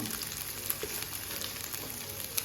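Chicken pieces frying in a pan for butter chicken, a steady, quiet crackling sizzle with small pops, heard alone.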